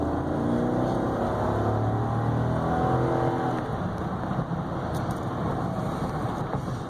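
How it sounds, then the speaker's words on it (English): A 2015 GMC Yukon Denali XL accelerates hard, its engine a steady loud roar that climbs in pitch for several seconds with constant road rumble underneath. "I'll accelerate a little hard again."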